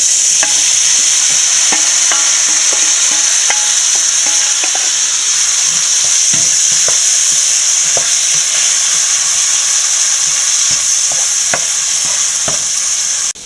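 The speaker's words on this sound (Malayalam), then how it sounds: "ചേന വേവിച്ചതിട്ട് കൊടുക്കും." Boiled elephant foot yam is stir-fried in a pan, with a loud, steady sizzle of hot oil throughout and scattered light spatula taps and scrapes, no voices.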